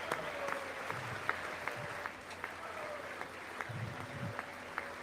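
Applause from a modest audience at a State of the Union speech: faint, thin scattered clapping in a steady patter with a few sharper claps, heard from a distance.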